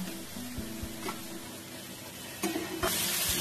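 Spice paste of ground cumin and coriander sizzling and frying in a pan just after water is added, a steady close hiss with a few stirring scrapes and a louder surge of sizzle near the end.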